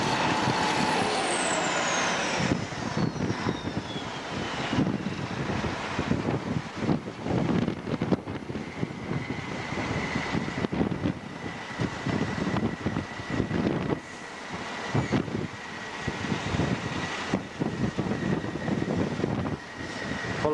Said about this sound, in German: Mit einem 220 PS Traktor.